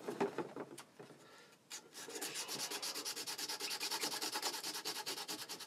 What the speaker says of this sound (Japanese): そこからの便座やすりですよ。